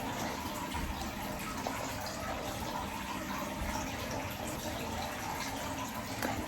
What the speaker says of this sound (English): now I want to go take a shower